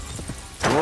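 Horse hooves clop in the video game Kingdom Come: Deliverance 2, a few soft steps followed by a louder rush of movement at the end.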